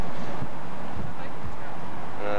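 Steady, loud wind rushes and buffets the microphone throughout at Capitol Reef or Goblin Valley in Utah, a constant roar with low thumps and no clear pauses.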